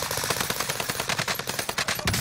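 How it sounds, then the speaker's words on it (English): Rapid gunfire and explosive bursts from a precision airstrike in a Call of Duty match, a dense, loud, continuous barrage of sharp cracks with no pauses. "Precision airstrike test."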